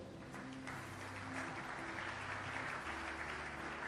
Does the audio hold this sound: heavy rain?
no